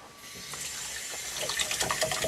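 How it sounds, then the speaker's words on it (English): Running water splashes into a photographic developing tray as it is rinsed of black-and-white printing chemical residue, a steady close hiss of tap flow with brighter splatters toward the end, no talking. "I just rinse this out a little bit."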